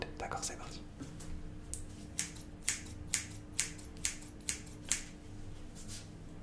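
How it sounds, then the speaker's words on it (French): Sharp scissor snips, eight crisp cuts in a steady, evenly spaced rhythm, close and quiet against a soft hiss, as in a calm whispered sensory test. "Vous me dites combien de coups de ciseaux vous entendez."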